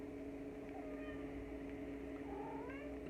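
A pet female kitten meows softly a couple of times, close by, over a steady low background hum.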